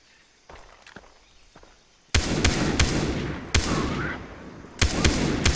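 Gunfire in Far Cry 3 aimed at charging rhinos: a few faint steps, then loud sharp shots begin, with sustained rough blasts and several distinct cracks spaced over a few seconds.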